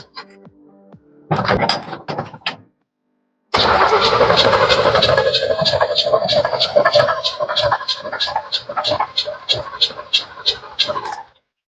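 A junkyard car engine cranks in two short bursts, pauses, then catches and runs loudly with a rough, pulsing idle for several seconds, close up, with a voice speaking briefly at the start.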